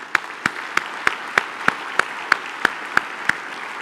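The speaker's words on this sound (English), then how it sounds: "Let's give them a round of applause." An audience at a credit union association's annual conference claps in a room, the applause heard as a steady run of sharp, evenly spaced claps, close and fairly loud, with no talk over it.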